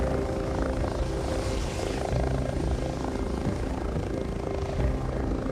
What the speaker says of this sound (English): The helicopter's here and the doctors will go and get him